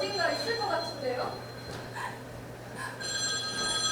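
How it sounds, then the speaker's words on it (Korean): A telephone bell rings in repeated bursts on stage during a student theatre workshop performance of a ghost play, with actors' voices talking around it and a steady low hum underneath. "전화? 이상하다. 전화는 끊겨있는 줄 알았는데."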